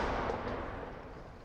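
A bomb with a detonator goes off in the air above the surface, a faint, distant low rumbling boom that decays steadily over a second and a half.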